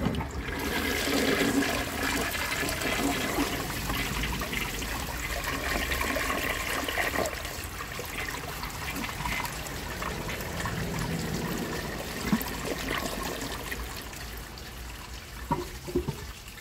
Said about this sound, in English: So let's give it a flush and see how it does on tests.